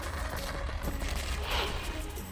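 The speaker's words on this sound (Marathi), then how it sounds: "यावेळी फटाक्यांची जोरदार आतिषबाजी करण्यात आली।" Dense, continuous crackling and popping of fireworks at a Vijayadashami effigy burning, loud and sustained, like a rapid barrage heard at close range.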